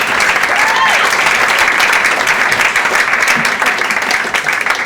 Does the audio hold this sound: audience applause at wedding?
yes